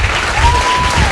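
Audience applause at a film meeting event, a short dense burst of clapping filling the room with steady, fairly loud noise and a faint tone running through it.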